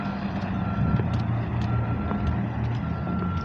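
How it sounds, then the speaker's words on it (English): A bus backing up on a street, its reversing alarm beeping steadily and repeatedly over a low diesel engine rumble. "actually it looks like it's backing up right there"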